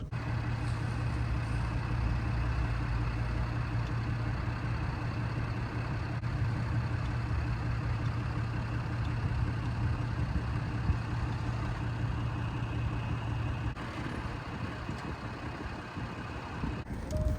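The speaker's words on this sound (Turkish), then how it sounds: "Şimdi aracı arkadaşlar indireceğim aşağıya doğru. En dibe indirmek istiyorum." A Range Rover Sport 3.0 V6 with 292 hp and 600 Nm sits idling while its suspension is lowered, giving a steady, low, continuous engine hum with no voices.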